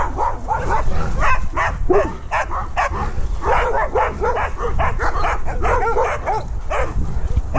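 Several dogs bark and yip excitedly in rapid, overlapping bursts before a walk, loud and close throughout, with some whimpering mixed in.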